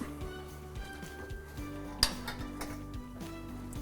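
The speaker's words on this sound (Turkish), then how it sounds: "Bunu şimdi fırına atıyorum hemen." A metal baking tray of zucchini lasagna goes into a home oven with one sharp clank midway, faint beneath steady background music.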